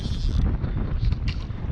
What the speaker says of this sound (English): The wind is also starting to pick up